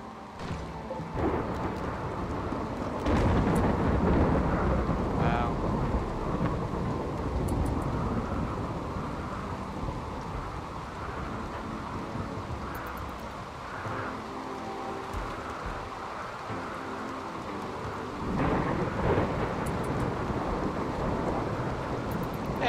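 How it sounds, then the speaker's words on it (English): A thunderstorm in the video game RimWorld gives a continuous heavy rain roar with deep rumbling thunder swells, loud and steady for over twenty seconds with no talking. "This is a hell of a storm."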